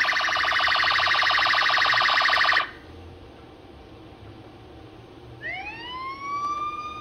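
Miniature police and fire truck models play electronic siren sounds: a dense warbling tone for about two and a half seconds cuts off, followed by rising whoops, loud and close with no speech.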